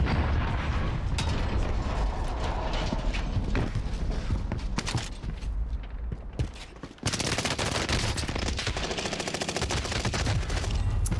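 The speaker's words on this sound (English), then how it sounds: "Who sniped me, dude?" Sniper rifle gunfire and weapon handling in the battle royale video game Warzone, with loud dense bursts of shots and mechanical clatter filling the clip, a brief drop just before a sharp loud resumption.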